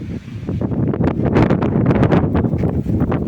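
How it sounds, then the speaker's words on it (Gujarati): Strong gusting summer windstorm wind roars and buffets the microphone continuously, blowing dust, with rushing, rumbling bursts and no voices. "આવી ગયો છે વાવાઝોડું"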